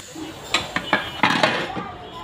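Metal lid set onto a pot of fish in a home kitchen, giving a few sharp clinks and clanks, with one cluster of clatter in the middle, heard fairly close over faint background hiss.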